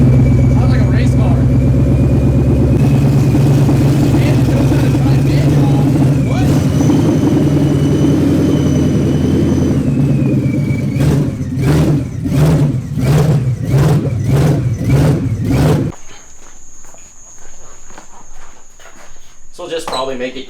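Ford Mustang GT V8 with open header dumps, loud and close, idling with a heavy rumble before a rapid series of about eight sharp revs, then cutting off into quieter background noise.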